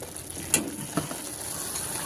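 Pumpkin halwa is stirred and sautéed in a pan, with two sharp scrapes of a spoon over a soft, low sizzle. No voices are heard.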